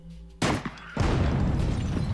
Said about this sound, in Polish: Zrobimy małą eksplozję.